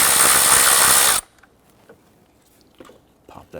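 A power tool loosens a 10 mm bolt on a 4.0L V6 Nissan Frontier during a valve cover gasket job, a loud, close, high whir lasting about a second that stops abruptly, then faint small clicks and handling noises.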